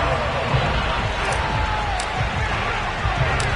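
A sold-out stadium crowd roars and cheers steadily in an EA Sports NFL game between the Bills and Washington, a dense, loud wash of noise with a few sharper peaks.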